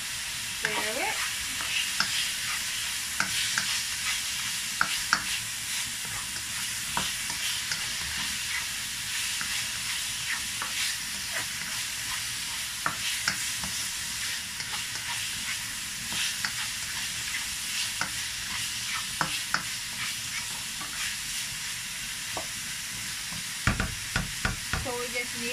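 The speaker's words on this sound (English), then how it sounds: "Stir it." Chicken korma is stirred in a frying pan, with a constant bubbling sizzle under repeated scraping and clacking spoon strokes that come in irregular bursts over a long stretch.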